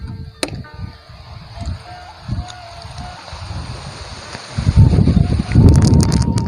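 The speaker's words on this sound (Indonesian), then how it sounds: "Berangin sekali." Strong wind outdoors near the Cimanuk river in Indonesia buffets the microphone in rhythmic low rumbling gusts, building to a louder, sustained roar in the last two seconds.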